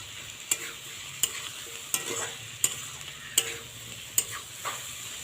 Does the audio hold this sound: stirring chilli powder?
yes